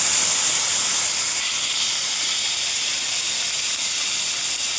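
Boiled chickpeas frying in a pan with dried red chillies, green chillies and curry leaves give a loud, continuous hissing sizzle that stays steady and close throughout, with no talking.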